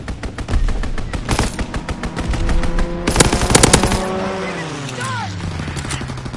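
A fighter plane strafes a target in a WW2 video game, firing loud, rapid machine-gun bursts over a droning engine, then pulling away with a falling whine as the firing stops.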